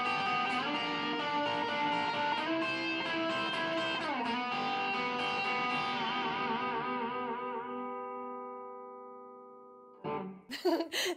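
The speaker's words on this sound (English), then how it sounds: "I played a lot of this electric guitar on the album." Electric guitar with effects and echo, played at a release celebration concert for an album, sustaining harmonic chords that slowly decay to near silence, then a few sharp loud strums at the end.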